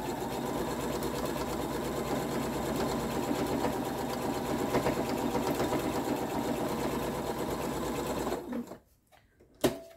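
A sewing machine stitches fabric binding onto an oven mitt with blue thread, a steady close whirring run for about eight seconds before stopping abruptly, followed by a few faint clicks.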